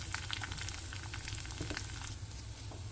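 Urad dal, chana dal and curry leaves sautéing in oil, a quiet, even sizzle up close with a faint clink at the very end and no speech.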